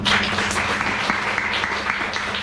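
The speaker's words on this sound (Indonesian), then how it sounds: "Tepuk tangan buat Tuhan." A church congregation at a Christmas dinner gathering applauds, a dense, steady wash of clapping from many hands filling the whole moment.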